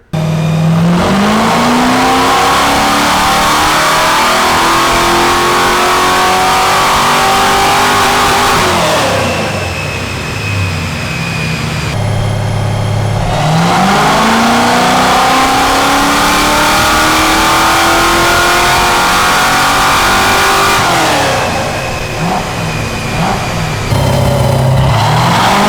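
Fox Body Ford Mustang engine revving hard on a dyno, two long loud pulls climbing steadily in pitch before dropping back to idle, with the roaring exhaust dominating throughout.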